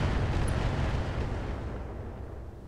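An LRM missile salvo hits in the Roguetech BattleTech mech game. A dense, booming, rumbling roar of explosions starts loud and slowly fades.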